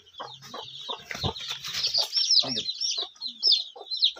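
A desi hen that has just hatched twenty chicks from twenty-five eggs clucks close by in short, soft bursts, mixed with thin high peeping from the chicks, some low murmuring around it.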